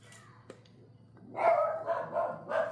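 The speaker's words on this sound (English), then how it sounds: "There they go, those dogs." Dogs bark off in the distance from a home kitchen during baking, a run of several overlapping barks that starts after some quiet handling noises and keeps going to the end.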